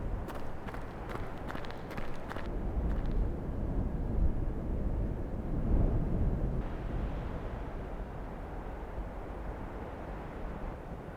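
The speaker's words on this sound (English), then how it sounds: "If you walk at a certain angle, it's like forward and a little bit diagonal, you actually make no footstep noises and you can fully sprint." In the VR shooter Tactical Assault VR, a player's footsteps patter quickly at first, then blur into a steady rumbling run under muffled game ambience that lasts the whole stretch.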